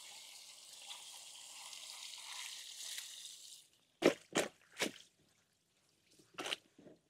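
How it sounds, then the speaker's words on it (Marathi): Bitter gourds being washed in clean water. Water splashes and trickles steadily, then several sharp wet splashes and drips follow. No one speaks. "आता कारले स्वच्छ पाण्याने परत एकदा धुवून घेऊ"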